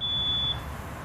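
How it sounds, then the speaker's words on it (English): A single shrill electronic beep from a photoelectric smoke alarm sounds for about half a second, then cuts off, leaving quiet room hum. "our photoelectric smoke alarm has just gone off"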